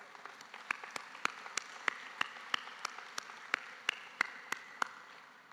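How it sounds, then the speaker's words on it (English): Audience applause for graduates at a university convocation ceremony, a steady bed of clapping from a large hall, fairly soft and distant, with sharper individual claps standing out at regular intervals. "Let's give them all a big round of applause"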